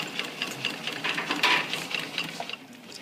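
A domestic sewing machine runs briefly while stitching a zipper, giving a close, steady rapid mechanical chatter over about three seconds with no voices.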